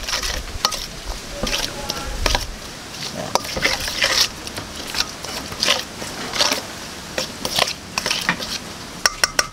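Meat for pendang damulag is mixed by hand in a bowl, giving close, irregular squelching and clinking scrapes in short bursts, with occasional background voices.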